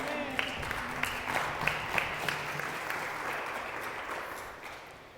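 A church congregation applauds during a Spanish-language sermon, steady dense clapping from many hands in a reverberant hall, sustained and gradually fading.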